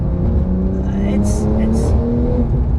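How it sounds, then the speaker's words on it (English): Porsche 911 Turbo S with four-wheel drive accelerating hard, a loud continuous engine drone rising steadily in pitch with brief hissing bursts from the turbochargers near the end, heard from inside the car. "You can hear the turbochargers spewing, and it just shoots you off into the distance."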